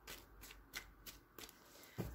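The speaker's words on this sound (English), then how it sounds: "Okay, one more shuffle." Tarot cards riffle and shuffle in several quick bursts, close and quiet, with soft taps between them.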